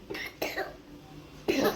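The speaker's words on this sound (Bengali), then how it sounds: "ঠান্ডা লেগে গেছে একটু কাশি কাশি হচ্ছে" A child with a cold coughs in short bursts, three separate coughs spaced apart with quiet between, fairly close and clear.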